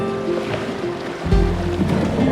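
A canoe runs a Class 1 boulder-garden rapid on a river. Water rushes and surges steadily around the hull, and a deeper splash comes midway as the boat drops into a small pool.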